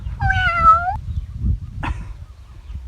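A cat gives one clear, drawn-out meow close by, followed a moment later by a shorter second call, over a low rumbling background outdoors in rural Isan.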